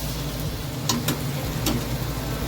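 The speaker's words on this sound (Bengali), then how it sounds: "দেখো পেঁয়াজটা মোটামুটি ভাজা হয়ে গেছে, আর বাদ বাকিটা মাংসের সঙ্গে কষিয়ে নেব" Onions sizzle and fry in a pan alongside meat for a Bengali kosha mangsho, a steady close hiss with a few brief clinks of a spatula, no voices.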